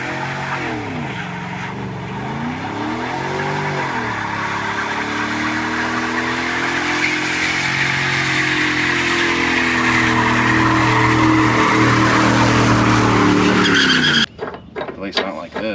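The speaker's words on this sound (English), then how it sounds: "I haven't set up for a massive burnout ever before." Can-Am Maverick X3 Turbo RR side-by-side doing a massive anchored burnout on worn tires, the turbo engine revving up and down then holding a loud, rising roar with tire squeal and spin, cutting off abruptly near the end.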